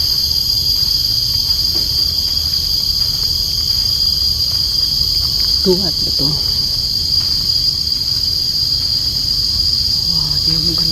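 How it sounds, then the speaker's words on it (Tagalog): Constant high-pitched cricket chirring fills the background, loud and unbroken, with a short spoken question partway through. "Kuliglig yung maririnig mo."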